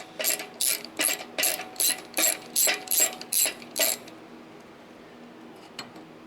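A socket wrench ratchets on a muffler stud of a Kohler engine on an Exmark Lazer zero-turn mower, giving nine quick, even bursts of clicking close up, then near silence with a faint tap.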